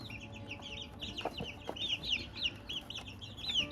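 Chicks, well-feathered and kept in a litter-bedded pen, peep in a busy run of short chirps with softer clucking beneath, faint and fairly close, with no voices.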